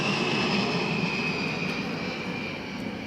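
A B-52 bomber from the 307th Bomb Wing reserve unit flies over at the Hyundai Air & Sea Show, a loud, continuous jet roar with a high whine that gradually fades slightly.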